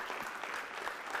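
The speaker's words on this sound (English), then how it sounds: "If you guys feel connected to what she is sharing, you can clap." A small audience at a talk in Varanasi claps together, a steady, even patter of hands, fairly faint and a little distant, with no voices over it.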